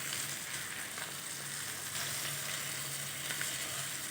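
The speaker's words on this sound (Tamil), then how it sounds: "இப்படி 2 பக்கமும் நல்லா செவக்க வறுத்து எடுத்துக்க வேண்டியதாங்க." Seer fish (vanjaram) sizzles steadily in a pan as a restaurant-style butter fish fry, a close, continuous crackle of hot oil with no voices.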